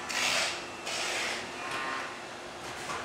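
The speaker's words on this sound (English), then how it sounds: "so this is a cow." A cow moos loudly and close by, with long drawn-out calls rising and falling over about three seconds and no talk alongside.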